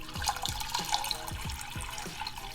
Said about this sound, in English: first thing that I'm going to do is add some water just so there's a little bit more water volume to work with